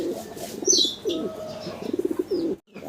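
Silver and yellow Lahori pigeons coo in a busy, repeated series of throaty calls with a few brief chirps, fairly close and steady, ending in a short silence.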